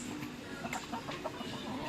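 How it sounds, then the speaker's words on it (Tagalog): Gamefowl chickens from an inbred and linebred flock clucking softly, with short scattered calls over steady low background noise, fairly quiet and close. "Gandang manok."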